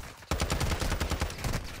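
Rapid automatic gunfire in Warzone 2, a dense burst of about a dozen loud, close shots fired in quick succession after a brief quiet start.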